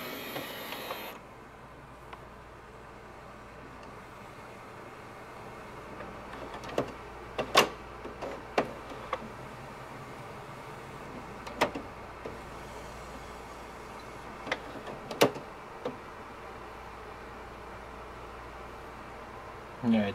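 An HP printer powers down and restarts: a soft mechanical hum and whir runs throughout, broken by scattered sharp clicks and clunks from the machine.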